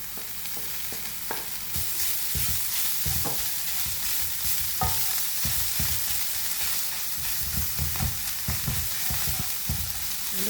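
Tinned fish tossed with onions in hot oil, a steady sizzle and fry running throughout with repeated scraping stirs of a spoon against the pan, close and continuous.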